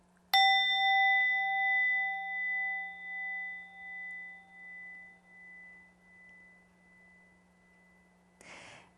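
A single meditation bell is struck once, a clear ringing chime with a bright attack and a long, slowly pulsing decay over several seconds in a quiet room, ending with a short soft noise.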